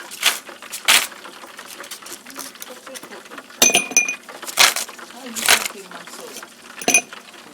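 Ice cubes clink against cups in short, bright bursts that come in irregular clusters, with some fainter clicks in between, while kitchen drinks are being poured.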